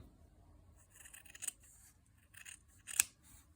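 Scissors snip through paper along a marked line while cutting petals for a sunflower and bee craft, two crisp close cuts about a second and a half apart over a quiet background.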